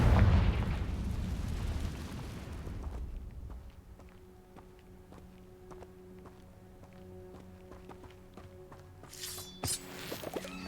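A Confringo fire spell blast from the Hogwarts Legacy video game erupts loudly at the start, a broad rumbling burst that fades over a couple of seconds, followed by quiet game ambience with light taps and a brief bright chime near the end.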